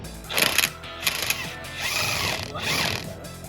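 Socket wrench ratcheting on a rusty bolt during a Renault 5 GT Turbo rear subframe restoration, a few close clicking runs of turning with scraping metal between them.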